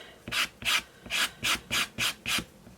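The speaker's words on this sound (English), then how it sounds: "So I've just got a sandpaper here." A sandpaper sanding block rubs back and forth in seven steady, evenly spaced rasping strokes, close and clear, with no talking.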